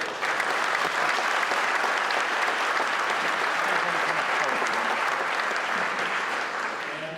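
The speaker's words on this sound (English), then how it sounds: "Please give a round of applause for Derek Sheffield." Sustained, dense audience applause for the poet laureate during a governor's State of the State address, steady and full for several seconds before easing slightly at the end.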